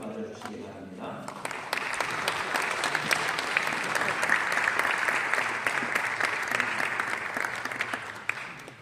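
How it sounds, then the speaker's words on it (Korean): A church lecture audience marking a 140th mission anniversary gives a speaker a warm welcome: a voice is heard briefly at first, then sustained, crisp applause from many hands fills the room and holds steady. "이제 이 시간 우리 하이정 박사님 나오실 때 큰 박수 맞아주시기 바랍니다"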